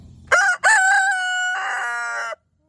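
A chicken crows loudly and close, a rising call broken by a short gap and then held, preceded by faint low clucking.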